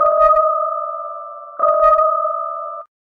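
A synthesized waterharp horror effect meant for a forest atmosphere: two eerie, pure-toned sustained notes, each starting with a wavering shimmer and slowly fading, the second entering about halfway through.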